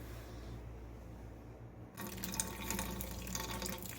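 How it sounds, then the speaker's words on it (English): Water is poured off a container of soaking tomato seeds, floating pulp and seeds spilling out; a quiet trickle suddenly becomes a louder, steady splashing pour halfway through, with no talking. "we want to make sure everything that's floating gets decanted off,"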